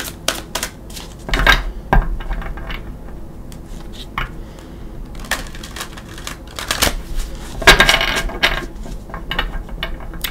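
Tarot cards are shuffled by hand in quick bursts of riffling and flicking, with card edges snapping and slapping close by and brief pauses between shuffles, loud and crisp with no talk over them.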